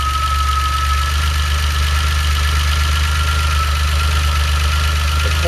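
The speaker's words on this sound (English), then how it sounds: "Now my engine is running, so the coil can discharge itself." A DeLorean engine idles up close, a loud, even mechanical rumble with a rapid steady pulse and a faint whine riding on top, running alone without voices.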